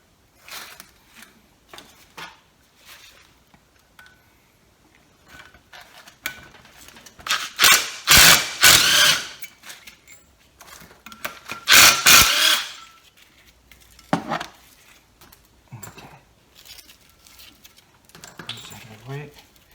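Socket ratchet working 14 mm hub bolts off a brake rotor on a Nissan 300ZX Turbo during a front brake job: dense bursts of fast clicking come in loud spells between quieter taps and handling noises, with someone talking at times.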